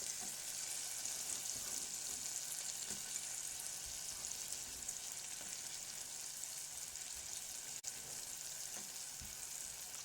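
Onions frying gently in melted butter over low heat for a sauce, a soft, continuous hiss and crackle that holds steady and quiet for the whole stretch, with no talking.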